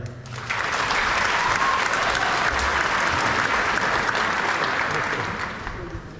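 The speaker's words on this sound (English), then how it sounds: "But a round of applause." An audience applauds at a volleyball club's opening ceremony, a loud, sustained burst of many people clapping for about six seconds that swells in, holds steady and slowly tails off.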